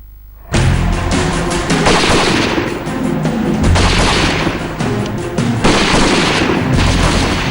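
Heavy gunfire rings out along the India–Pakistan international border. Loud, dense volleys of shots and booms start abruptly and continue almost without a break, echoing, with no voices heard.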